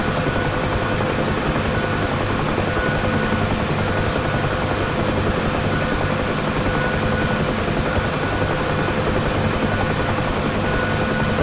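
A UH-1 Huey helicopter's turbine whine and rotor thrum in the DCS flight simulator, a loud, constant drone with a steady high tone that runs unbroken throughout.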